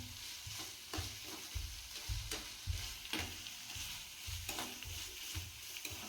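Mixed vegetables for fried rice, including beans and spring onion, sizzle in a pan while a spatula stirs them in regular scraping strokes over a low, continuous frying hiss. No voices.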